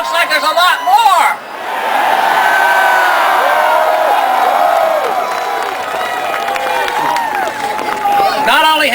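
A large crowd at a Ron Paul political rally at Independence Mall in Philadelphia roars and cheers, with whoops and shouts rising over a continuous loud wall of voices that holds steady for several seconds.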